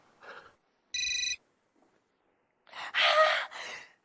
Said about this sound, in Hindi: रोहन, क्या बात है, तुम्हें मेरी बहुत याद आई इसलिए फोन किया ना